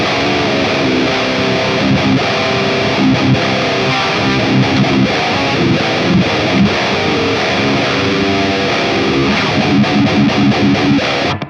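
An electric guitar runs through an ML Sound Lab Diezel VH4 amp plugin with a boost in front, a dense, heavily distorted riff played loud and continuous, chugging rhythmically throughout.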